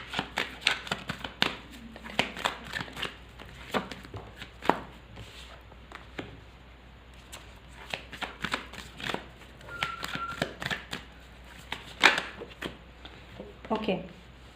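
Tarot deck being shuffled and cleared by hand, giving irregular bursts of riffling and tapping card sounds at close range, with brief pauses between the shuffles.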